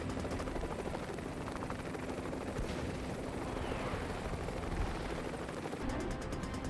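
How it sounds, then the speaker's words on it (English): Military helicopters hover at Quantico while an assault team fast-ropes down, a dense, continuous rotor chop and engine roar throughout, loud with a rapid pulsing beat. "Today at Quantico, HMX helos are dropping an assault team by fast rope."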